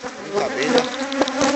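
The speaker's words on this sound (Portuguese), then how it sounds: "Muita abelha." A swarm of honey bees buzzes loudly and close during a honey harvest, a dense continuous droning hum with individual bees passing near.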